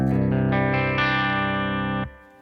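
A guitar played through a Boss OD-200 overdrive pedal in Brown Sound mode rings out in a short phrase of rising distorted notes that sustain loudly, then cut off abruptly into a brief tail.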